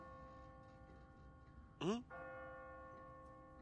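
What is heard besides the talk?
church bell ringing on a timer, from The Walking Dead video game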